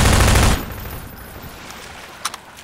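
Gunfire in a Half-Life 2 mod sounds as a loud dense burst at the start, then a ringing decay into quieter ambience with a couple of faint distant shots near the end.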